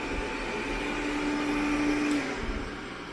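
An Ultenic T10 self-emptying robot vacuum driven by remote control, its motor giving a steady close whirring drone with a faint rising whine as it moves.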